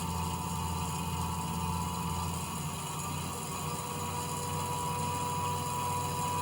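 A DIY treadmill motor running steadily on a budget motor controller at around 1700–1800 RPM gives a continuous, even mechanical hum and whine with a constant broadband drone, heard alone without speech.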